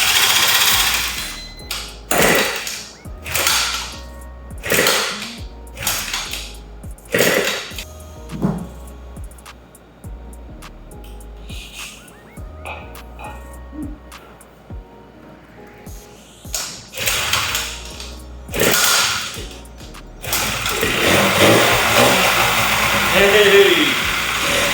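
A Japanese classic car engine cranking over in a garage, heard as repeated loud whirring starter bursts with a rhythmic churn, separated by pauses, ending in a longer sustained rumble.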